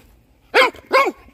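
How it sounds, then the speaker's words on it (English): A dog barks twice, loud and close, two quick evenly spaced woofs against a quiet background. "No barking."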